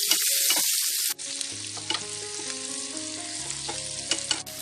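Potatoes stir-fried in hot oil with spices for an aloo masala fry give off a steady, close sizzle with stirring scrapes throughout, over a faint musical background and no talking.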